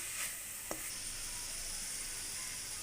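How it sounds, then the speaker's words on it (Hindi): Cabbage and mixed vegetables stir-frying for macaroni give a steady, soft sizzle in the pan throughout, with one brief clink near the start and no talking. "सब्जियों को अच्छी तरीके से आपने मिक्स करके बिल्कुल हाफ फ्राई रखना है"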